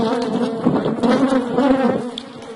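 Dense, continuous buzzing of a crowd of agitated honeybees at close range while a beehive is opened for inspection, a steady drone with no voices.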